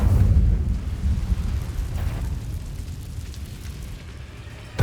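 A fire spell, Incendio, cast in Hogwarts Legacy: a heavy, roaring burst of flame with a deep rumbling body that stays loud throughout, then a fresh flare right at the end.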